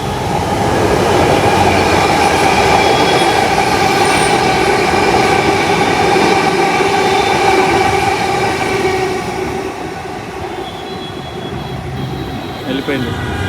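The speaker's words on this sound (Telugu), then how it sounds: "వచ్చింది చూడండి మెట్రో" A Bangalore metro train passes close by, its steady rumble and rail roar running loud throughout and easing slightly near the end, with faint talk underneath.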